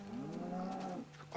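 A single drawn-out cow moo from Minecraft livestock, lasting about a second, loud and close, with a short clipped sound right after it and no talking.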